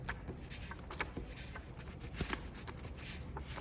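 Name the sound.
drawing cards from a card game deck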